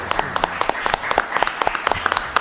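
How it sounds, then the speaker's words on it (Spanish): Brief round of applause from a small group in a studio during an economics discussion show, a handful of distinct, near claps in an uneven rhythm over low background murmur. "Felicitaciones, aplausos."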